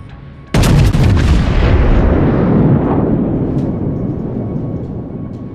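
Artillery guns fire in support, one loud, close heavy blast that rolls out into a long, slowly fading rumble with a few faint cracks trailing behind.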